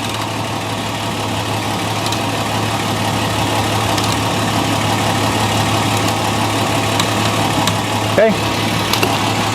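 A 2006 Toyota Tundra with a 4.0L V6 idles steadily after a transmission fluid service, a constant low rumble held close throughout, with a brief spoken word near the end.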